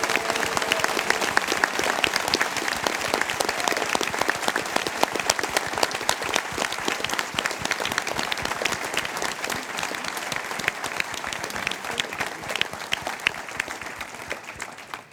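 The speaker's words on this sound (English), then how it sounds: "Maybe a little applause for the folks who put it together." Audience at a Google Angular team panel breaks into dense, steady applause that lasts around fifteen seconds, loud and continuous with no talking over it, fading slightly at the close.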